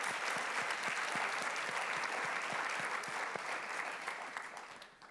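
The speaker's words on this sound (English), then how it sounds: "Give an applause to Albert, please." A room full of people at an awards ceremony claps steadily, loud and continuous, then the applause thins and fades toward the end.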